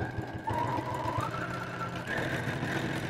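Electric sewing machine stitching two pieces of fabric wrong sides together, including gingham: a steady, close mechanical whirr with rapid needle rhythm running continuously, with shifts in pitch as the speed changes.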